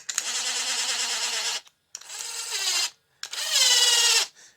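Power tool running down the bolts on the gear reduction plate of a Honda Rancher 420 ATV, three loud sustained whirring bursts separated by short pauses, the last rising in pitch as the bolt tightens.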